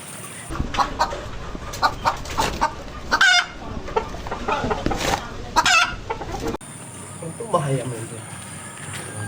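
Chickens clucking and fowl calls at a rural Minangkabau village setting, a string of short bursts over the first several seconds with people talking nearby, then a quieter stretch with a few fainter calls.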